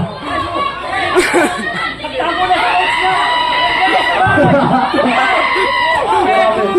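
A crowd yells and chatters continuously at an amateur boxing match in a boxing gym, with overlapping excited voices, shouts and occasional cheers filling the space loudly throughout.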